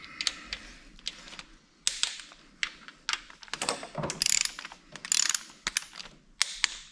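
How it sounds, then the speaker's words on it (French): Rapid mechanical clicking and ratcheting in irregular bursts, close up, as an electric screwdriver's clutch slips on reaching 10 Nm torque during a BMW X3 F25 automatic gearbox fluid change. "la visseuse elle n'a pas vissé complètement"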